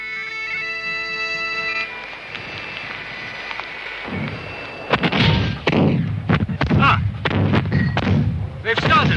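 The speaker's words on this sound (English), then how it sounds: "The rebel cannon have opened fire." Rebel cannon open fire at the Battle of Culloden, a series of heavy booming blasts in quick irregular succession after a held tone and a low rumble, with talk faintly underneath.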